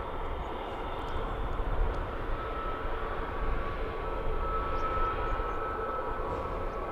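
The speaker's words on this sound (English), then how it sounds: "So this was A321neo. Will be departing for Tirana." An Airbus A321neo departs London Luton Airport with a steady, broad engine roar. The sound is constant and moderately loud throughout, with a deep rumble underneath and no voices.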